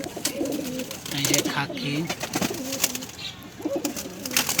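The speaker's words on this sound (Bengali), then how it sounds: "খুব সুন্দর কবুতর" Pigeons coo repeatedly in a loft, soft rhythmic warbling calls close by, with someone talking over them throughout.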